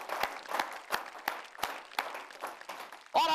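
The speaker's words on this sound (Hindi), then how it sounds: "जरा इनके लिए तालियां वालियां बजाइए" Sparse, slow clapping from a small audience for a poet at a Hindi poetry gathering, with a handful of separate claps in an uneven rhythm and a faint sound at the end.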